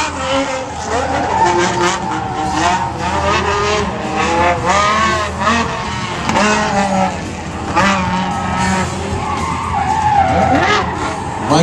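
Michael Essa's gymkhana car does donuts, its tires squealing and skidding in long, loud, sweeping screeches over a revving engine, with a commentator speaking over it.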